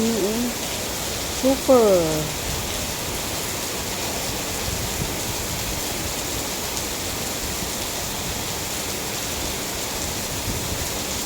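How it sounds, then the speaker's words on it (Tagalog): Heavy rain pours steadily as a dense, even wash of noise throughout, with a brief spoken word near the start. "Lumakas pa lalo ang ulan."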